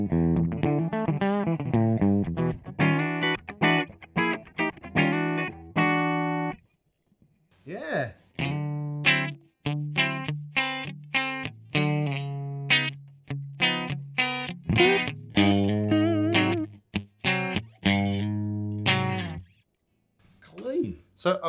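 Dry, clean electric guitar played through a Fender 1x12 amp with all controls at noon and no reverb, chords and picked notes in bursts with brief pauses, close and fairly loud, with a short spoken word.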